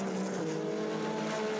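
WEC endurance race cars at the 6 Hours of São Paulo, a loud sustained engine whine holding steady pitch as a car runs hard, briefly and without talk.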